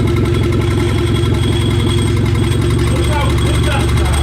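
A VW Golf Mk2 engine runs at a steady idle, loud and close, with a continuous low rumble and vibration throughout, and people talking over it.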